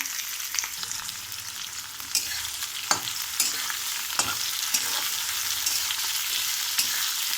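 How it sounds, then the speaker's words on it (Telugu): Onions frying in a pan, a continuous close sizzle with occasional sharp ticks and pops, steady in level throughout. "బ్రౌన్ కలర్ వచ్చే వరకు ఫ్రై చేసుకుందామండి ఆనియన్స్"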